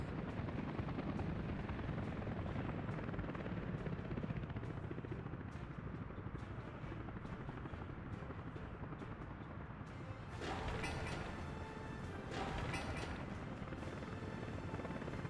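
Helicopters in the Soviet-era city-building game Workers & Resources: Soviet Republic, a steady loud rotor drone with dense mechanical rumble running throughout, swelling with a brighter whine partway through.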